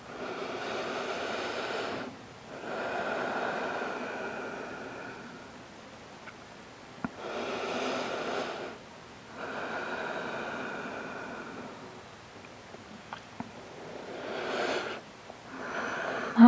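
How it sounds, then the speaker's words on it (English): Slow, deep breathing during a yoga session for stress: long, airy inhales and exhales come in a steady rhythm, close and clear, with brief pauses between breaths and no talking. "Two more breaths."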